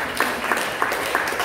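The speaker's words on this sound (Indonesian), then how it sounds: "Masih tepuk tangan yang mulia untuk Tuhan." Audience applause fills a church worship service, a steady wash of many hands with rhythmic clapping bursts landing roughly every third of a second, moderately loud throughout.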